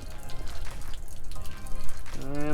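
Water gushes and splashes out of an RV water heater drain in a continuous turbulent rush. It is loud and close throughout, and a brief voice comes in near the end.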